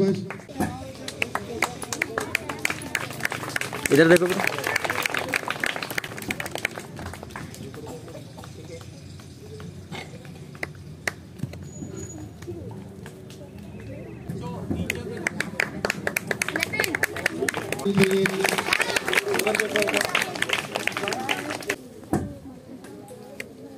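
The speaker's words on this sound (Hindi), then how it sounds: "तालियां होनी चाहिए" A crowd at a teacher's retirement party at a railway school in Mirpurkhas claps in two sustained bursts of rapid, dense applause, with people talking over and between them.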